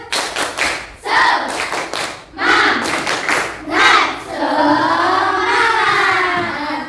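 Schoolchildren at an Indonesian elementary school perform a rhythmic spirit clap, bursts of group clapping broken by short pauses, followed by a sustained chorus of young voices chanting together, loud and close.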